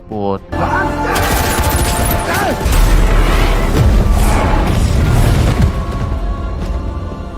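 Dense bursts of gunfire and booming impacts with a cinematic soundtrack feel, loud and sustained, rapid volleys layered over rumbling low end.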